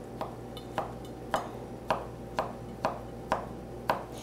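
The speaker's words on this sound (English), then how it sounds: "start chopping" A knife chopping heart of palm on a cutting board in a kitchen, eight crisp, evenly spaced chops about half a second apart, close and moderately loud with no talking.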